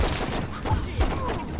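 Gunfire in Saints Row erupts as a loud, continuous burst of overlapping rapid shots at close range.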